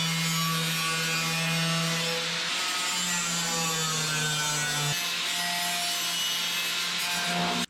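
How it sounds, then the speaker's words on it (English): An angle grinder takes excess MIG weld off a patch panel on a 1976 GMC truck. It gives a loud, sustained, close-up whine with a droning pitch that shifts slightly as pressure changes, running without pause. "we're gonna grind off all that extra and match it to that side"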